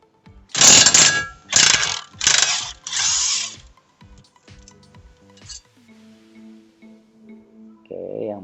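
A DeWalt power tool loosening the 18 mm brake bracket bolts on a Chevrolet Spin, with four loud, close bursts of whirring and ratcheting, then quieter clicks and handling noises, and brief speech near the end.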